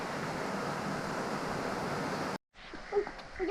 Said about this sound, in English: We found a rainforest and a waterfall.